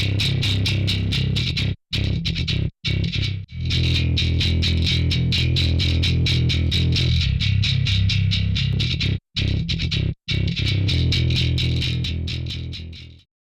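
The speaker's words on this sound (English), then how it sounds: "On this electric bass loop, the V76 Pre input gain will add harmonic distortion to the original sound." Electric bass loop pushed through a V76 preamp, modeled on a modified Telefunken, with input gain adding harmonic distortion; a rhythmic riff of repeated plucked notes with brief gaps, loud and alone.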